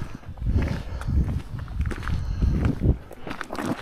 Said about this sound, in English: Sounded like a footstep.